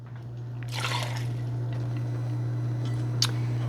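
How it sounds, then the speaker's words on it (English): Milk pours into a casserole mixture of cream of mushroom soup in a pan, giving a soft wet splashing and squishing over a steady low hum, with a small clink near the end. "And then you're going to add in your milk,"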